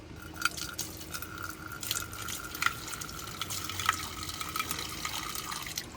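Water pours and trickles into a rabbit's dish outdoors in the heat, a soft, steady splashing with faint glassy clinks, quiet and close, with no voices.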